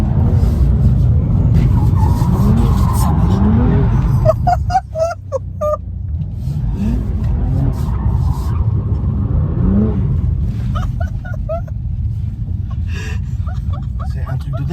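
A BMW M2 Competition drifts on a wet track, its engine roaring and tyres squealing in long loud passes heard from inside the car, with voices talking and reacting throughout.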